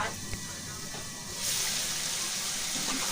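A little water is poured into a pot of fried chicken for a Bengali chicken and potato curry, a steady broadband gush that starts abruptly and continues to the end, close and moderately loud.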